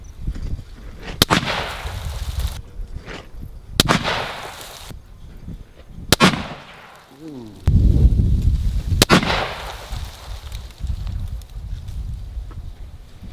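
Ruger American Gen II rifle in .30-06 firing at a range, four loud sharp reports a few seconds apart, each with a booming low tail, with light wind behind them.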